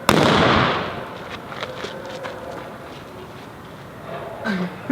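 A small staged explosion set off for filming gives one sharp, loud bang at the start that quickly decays into a hissing, crackling tail with faint debris sounds afterward.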